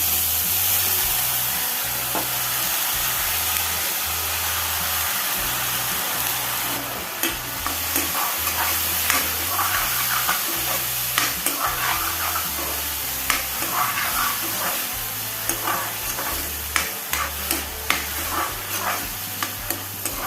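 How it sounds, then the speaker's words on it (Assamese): Soaked dal fries in a pan for an Assamese home-style meal, a steady close sizzle overlaid with repeated scraping clicks from stirring and no talk. "দালিখিনি এতিয়া মই ভালকৈ ভাজি ল'ম"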